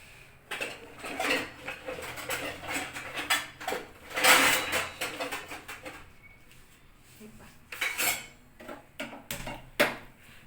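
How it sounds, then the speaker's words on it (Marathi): A metal wok clanks and rattles as it is set down on the stove, with several sharp knocks and scraping between quieter gaps, close by. "मी आता कढई घेते आणि कढई ठेवते तळायला."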